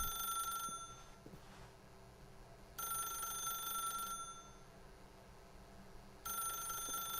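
Telephone ringing in The Stanley Parable, two long electronic rings separated by a pause with a third starting at the end, a steady repeating pattern, quiet and alone.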